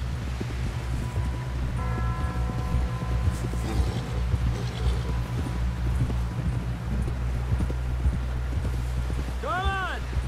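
Horse hooves clip-clop at a steady walking rhythm in the Red Dead Redemption 2 video game, continuous under a low ambient bed and sustained game sound, with a brief rising tonal flourish near the end.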